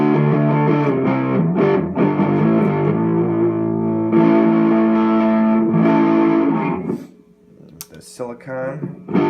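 Electric guitar through a distortion pedal set to its low gain toggle position, a thick sustained chordal tone ringing for several seconds, then dropping off into quieter picked notes near the end.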